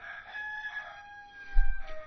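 A rooster crows in a long drawn-out call with a strained, wavering tone, moderately distant and fairly faint, followed by a few low thumps near the end.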